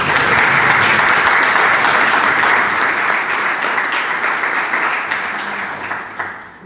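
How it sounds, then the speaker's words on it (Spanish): A crowd at a book presentation applauds author Mima Morales Suárez, sustained loud clapping from many hands that holds steady and then gradually tapers off toward the end. "les pido un fuerte aplauso para doña Mima"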